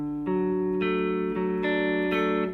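Clean guitar picks a song's intro using just the bass note, a handful of clear ringing notes struck at an even pace, soft and close with no talking.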